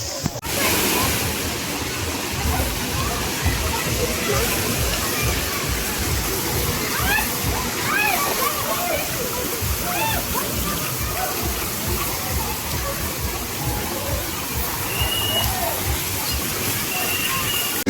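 Water splashing and sloshing at a bathing spot under a turtle-shaped fountain in a Nepal water park, a continuous pouring rush with scattered splashes, and voices talking and calling over it.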